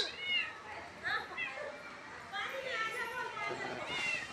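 A cat kept at home with children gives a few soft meows amid lively children's voices and chatter, close by and partly buried under the talk.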